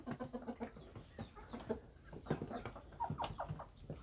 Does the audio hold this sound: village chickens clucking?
yes